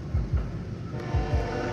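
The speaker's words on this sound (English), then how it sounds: "There's a fucking train." A train rolls past in the VR game Into The Radius, with faint rhythmic paired wheel clacks over a low rumble, quiet and distant.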